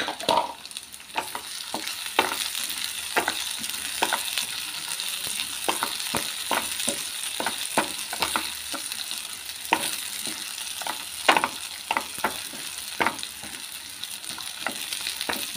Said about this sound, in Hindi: अब इसमें लाल मिर्च और हरी मिर्च भी डाल देंगे